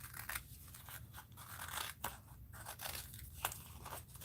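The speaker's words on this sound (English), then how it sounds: "I'm just going to cut a strip of it off." Scissors cut a strip off material for an art journal, a series of close crunchy snips and rasping blade strokes repeating irregularly throughout.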